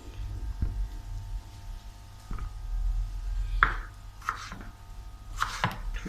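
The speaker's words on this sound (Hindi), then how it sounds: "ये हमने दूसरा एप्पल भी छील लिया, इसको भी हम काट लेते हैं" A knife chops a peeled apple into cubes on a board. Soft, scattered cuts land at irregular intervals, with a few sharper knocks near the end over a low background hum.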